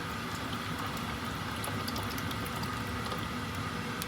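Water pouring for coffee, a steady rushing, bubbling liquid stream that continues evenly without pause, close and moderately loud, with no voices.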